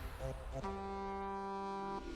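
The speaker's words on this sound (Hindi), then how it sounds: "हॉर्न सुन लिया ना?" A sustained, steady horn blast in a Minecraft game sounds for well over a second after a couple of short lead-in tones, tonal and reedy under a low background.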